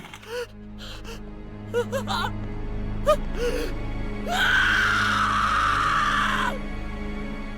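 Voice actors' screams and gasps from the horror video game Corpse Party, a string of short pained cries and whimpers followed by one long, loud sustained scream over a low background hum.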